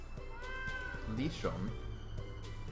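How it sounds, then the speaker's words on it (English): A cat meows from the Japanese game Simple 1500 Jitsuyou Series Vol. 16 – Neko no Kaikata, a world cat catalog. There are a few short, faint, rising and falling meows under a steady background hum. "Listen. Oh. It's a cat."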